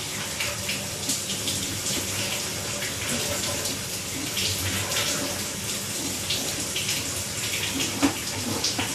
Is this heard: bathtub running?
yes